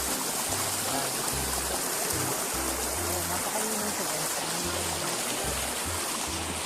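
A stream flows and gurgles steadily in Liliw, Laguna, Philippines, a close, continuous rushing stream with no pauses.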